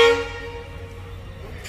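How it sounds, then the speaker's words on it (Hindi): A WDP 4D diesel locomotive sounds its powerful horn at a station: a loud tonal blast at the start that cuts off quickly, leaving a low engine rumble idling underneath. "काफ़ी पावरफुल हॉर्न्स WDP 4D के"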